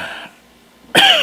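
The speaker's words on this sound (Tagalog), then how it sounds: "Hindi pa pala tumitigil yung ubo mo." A single sharp cough bursts out close and loud in an indoor drama scene, just after a brief trailing voice and a short moment of near silence.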